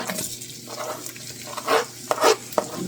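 Ginger frying in a pan at the start of a chicken and broccoli stir-fry: a steady oily sizzle with a few louder bursts of hissing and stirring scrapes near the end, close and without talking.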